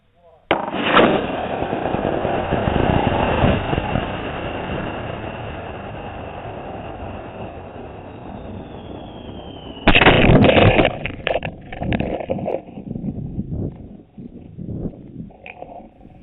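A model rocket powered by a D12-5 motor roars through its burn in a loud sustained rush, then a sharp burst from the ejection charge, followed by faint rattling and wind noise.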